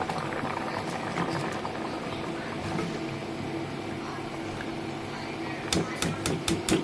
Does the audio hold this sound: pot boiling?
yes